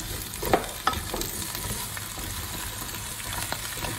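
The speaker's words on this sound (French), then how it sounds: "on va laisser revenir les légumes pour concentrer les arômes" Diced vegetables and butternut squash sautéing in a pot, with a soft steady sizzle and a few sharp clinks and scrapes of stirring up close.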